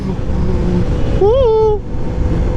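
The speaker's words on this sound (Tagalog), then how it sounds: "May tricycle na!" A tricycle passes on the road with a steady close engine rumble, and a brief rising-then-falling horn-like tone sounds partway through.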